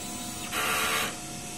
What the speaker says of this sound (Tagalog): Ito ang head clean niya.